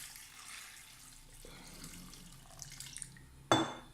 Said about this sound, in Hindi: 3 गिलास के करीब मैंने पानी डाला इसमें